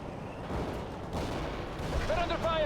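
Gunfire and distant explosions crackle in the war strategy game World in Conflict, a muffled, continuous barrage with a radio-style voice rising near the end.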